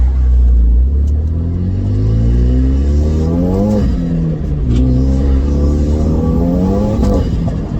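A Renault Megane RS250 with a forged hybrid track setup drives on a public road, its engine loud and close as it revs up through the gears with rising pitch sweeps and brief dips at the shifts.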